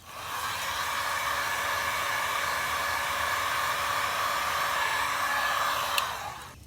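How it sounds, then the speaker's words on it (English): Heat gun blowing steadily on the old reflector of a BMW G20 3-Series bumper, a close, even hiss-and-roar of hot air running for about six seconds before cutting off, with no voices. "We just pretty much heat up the old reflector, we push it out"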